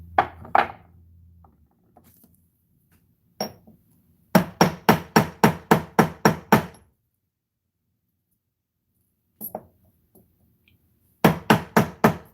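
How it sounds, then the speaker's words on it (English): Hammer strikes in a craft room: two quick bursts of sharp, close, evenly paced blows, about eight in the first run and four in the second, separated by near-silent pauses, with a few isolated knocks in between. "If I just get it in there and, like, bam, start hammering."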